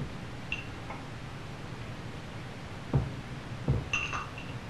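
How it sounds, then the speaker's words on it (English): A spoon stirring dishwashing liquid in a glass, giving a few light clinks and taps scattered over a quiet background, with two louder knocks near the end. "Use your spoon to thoroughly mix the liquid."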